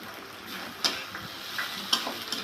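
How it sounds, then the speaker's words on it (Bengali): Small puti fish being stirred into spiced vegetable masala in a frying pan, a steady soft sizzle with a few light scraping clicks of the spatula against the pan. "মাছটা দিয়ে একটু নেড়ে চেড়ে নিয়ে তারপরে দিয়ে দেবো ধনেপাতা কুচিগুলো"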